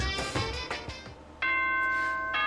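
A bright electronic chime from the video game Danganronpa: Trigger Happy Havoc, playing a short melodic bell-like tune with sustained tones, loud and close, with no talking over it.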